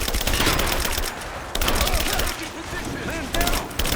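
Dense gunfire in a Rise of the Tomb Raider battle, rapid overlapping shots and bursts filling the scene continuously, with shouting voices mixed in among the loud volleys.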